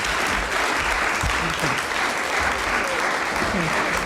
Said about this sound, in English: please, audience, give these candidates your applause